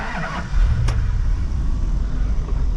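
A 1989 Dodge Ramcharger engine catching and settling into a loud, steady idle right after a brief crank, heard from inside the truck with no throttle applied.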